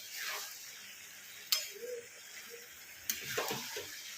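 Masala is sautéed on high heat with black chickpeas and potatoes in a pan, giving a steady close sizzle and hiss broken by a couple of sharp clinks of a stirring spoon.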